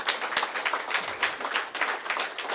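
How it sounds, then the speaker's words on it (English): Audience applause for Vikram and the team at a corporate event, steady clapping from a crowd, moderately distant and continuous throughout. "round of applause for Vikram and the team"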